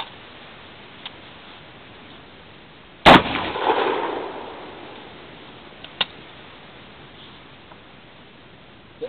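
A Rossi sawed-off riot shotgun fires a 2 3/4 inch 1 ounce Winchester slug outdoors at a range: one loud, sharp blast followed by a rumbling tail, with faint clicks before and after.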